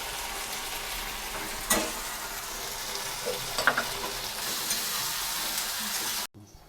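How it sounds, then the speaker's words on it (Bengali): Potatoes fry with spices and salt in a pan for a soya keema dhokar dalna, giving a steady close sizzle with a few sharp stirring scrapes, then cutting off abruptly near the end. "পরিমাণ মতো নুন এর সঙ্গে দিয়ে আলুটাকে ভালো করে কষে নিতে হবে।"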